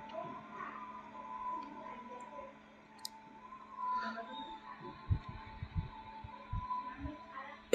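Sharp computer mouse clicks in a quiet room, a few isolated ticks followed by a quick cluster of clicks near the end, close and crisp over a faint steady hum.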